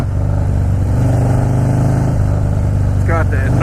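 A Harley motorcycle engine rumbles steadily and loudly close by, a deep continuous throb that holds throughout, with a brief higher whine rising near the end.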